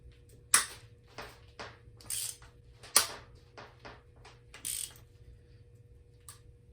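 Ratchet clicks and mechanical cracks from loosening cylinder head studs on a BMW M52 24-valve engine in an E30 turbo build, a series of sharp separated bursts with short ratcheting runs between them, close and fairly quiet.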